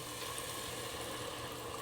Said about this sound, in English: we're going to go ahead and start adding in the wine